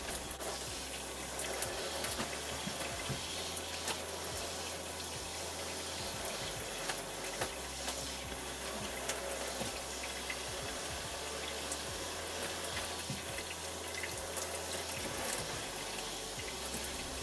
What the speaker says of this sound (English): And then I rinse it all out, make sure no tangles and all that